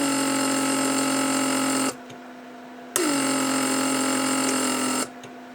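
A Mercedes S-class door lock vacuum pump runs with a steady close electric whine, cuts out briefly, restarts with a sharp click, then shuts off again near the end.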